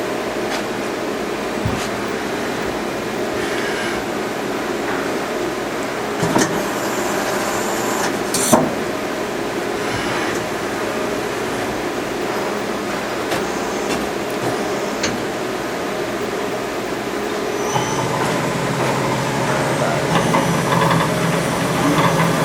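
A Mori Seiki SL-15 CNC turning center with a FANUC 10T control runs through its paces, giving a steady, loud machine drone with a constant hum and hiss and a few faint clanks, with no talk over it.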